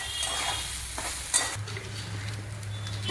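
Papaya curry with fried cashews and raisins is stirred in a pan over gas heat. A spoon scrapes and clinks against the pan over a low steady sizzle, close and alone without speech.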